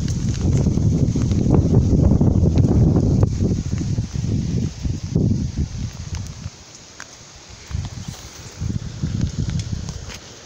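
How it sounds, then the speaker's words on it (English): Strong wind gusts from a severe thunderstorm complex roar and buffet the microphone in heavy, uneven surges, easing briefly before building again. "the wind gusts are going crazy"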